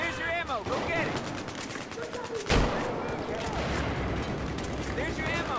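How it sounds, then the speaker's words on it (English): Heavy sustained gunfire in a Battlefield 4 firefight, rapid overlapping shots and bursts with a loud blast midway, continuous throughout with voices talking over the combat. "I'm taking heavy fire over here."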